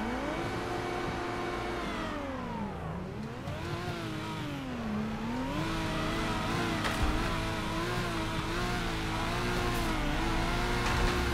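A BMW drift car's engine revs hard on a track in the Torque Drift Atlanta game, the pitch rising and falling in sweeping waves as it accelerates and slides, loud and continuous with no talking.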